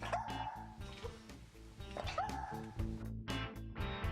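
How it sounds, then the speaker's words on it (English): A dog near an outdoor charcoal grill set up for pizza gives soft yips and whimpering barks, faint and intermittent over a steady low rumble of background noise. "here's another dog coming up here."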